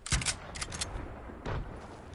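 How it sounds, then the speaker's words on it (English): A burst of rapid gunfire in a PS4 video game followed by another short volley, fairly faint and crackly, with no talking. "Do I hear gunshot?"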